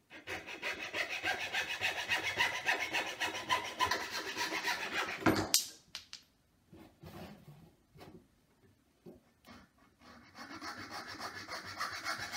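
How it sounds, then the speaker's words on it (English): A handsaw rasps back and forth through wood in steady strokes, then stops and is followed by scattered quiet knocks and handling. "I'm going to use a handsaw so I have more control."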